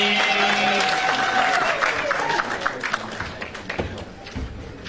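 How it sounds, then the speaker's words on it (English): Audience clapping at a regional school competition award ceremony: a crowd applauds loudly and steadily at first, then the clapping thins and tapers off into scattered claps. "Let's clap hands for Sifunzani."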